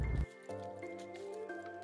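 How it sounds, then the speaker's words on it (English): A paintbrush is swished and rinsed in a cup of water while painting an air dry clay tic tac toe board, giving soft close squishing and dripping sounds with a faint tonal hum underneath. "I'm going to wash my brush extremely well in my water"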